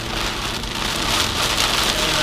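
Steady rain drumming on a car while driving on a rainy day, a dense continuous patter with a low road rumble underneath, loud and unbroken throughout.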